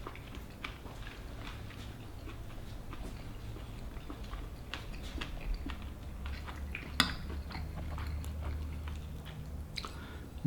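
Spoon scraping and clinking against a dish while Cajun/Creole gumbo with alligator meat is eaten, with soft chewing between scattered light taps over about ten quiet seconds and one sharper clack near the end.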